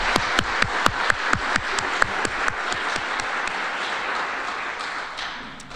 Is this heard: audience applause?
yes